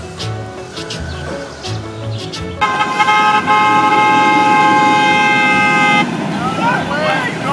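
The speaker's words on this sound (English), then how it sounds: "What is that honking, dude?" A car horn blares in one long, loud, steady honk after some muffled sounds, then cuts off, leaving background noise.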